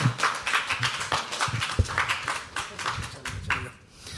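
Audience applause at a stage show for performers and couples, a dense, steady patter of many hands clapping that stays fairly loud through the whole stretch and thins slightly near the end.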